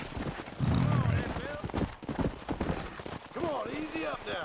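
Horse hooves clop and a horse whinnies briefly in Red Dead Redemption, with a voice talking over the animal sounds throughout.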